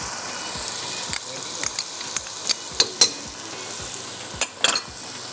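Fennel seeds, ginger and garlic go into a hot pan and fry, giving a soft steady sizzle broken by several sharp stirring clinks and scrapes of a spoon against the metal.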